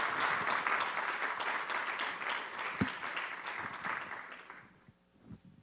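Audience applause for the panelists at The Last Girl Awards 2023 ceremony. Steady clapping holds for about four seconds, then thins out and fades to near silence.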